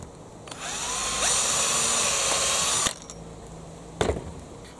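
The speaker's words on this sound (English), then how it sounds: "And then I'll just drill out the other one." A small power drill whirs for about two seconds while drilling out a part on a Bruder Mercedes-Benz Sprinter model van braced on a wood block, followed by a brief knock; quiet and close.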